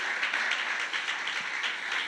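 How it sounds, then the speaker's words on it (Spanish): Applause from a church congregation, a dense steady wash of clapping held at an even level throughout, fairly loud and without any voices over it. "denle un aplauso al Señor"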